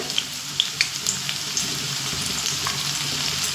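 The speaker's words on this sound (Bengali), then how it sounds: "এবার এখানে যে সবজি আমি কেটে রেখেছি তার থেকে কিছুটা সবজি আমি ভেজে নেব" Pumpkin, pointed gourd and yardlong beans fry in hot oil with a continuous close sizzle, and a few sharp crackling pops come early on.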